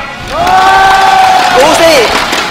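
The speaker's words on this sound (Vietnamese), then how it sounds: "họ vỗ tay vì Uzi đến từ thủ đô" At a League of Legends GPL Spring 2015 final, a live crowd applauds and cheers for player Uzi, a loud roar of clapping and shouting, with a drawn-out vocal cheer rising above it.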